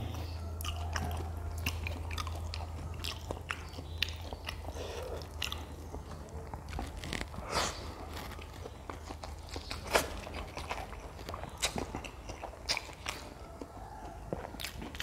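Crispy grilled village chicken skin is eaten up close, with crunchy bites and wet chewing that repeat steadily over a low constant hum and no talking.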